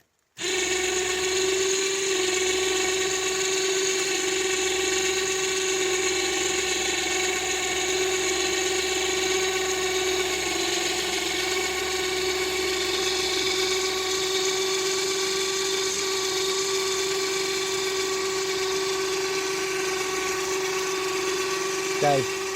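A cable winch on a new Argo 8x8 hauls a heavy log off a bush track, a steady high whine running continuously for over twenty seconds before cutting off at the end.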